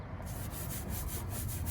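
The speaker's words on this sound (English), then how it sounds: "Go back in with your cone brush" A cone brush scrubs a wheel rim in quick back-and-forth strokes, a close, steady bristly rubbing with a regular rhythm and no talk over it.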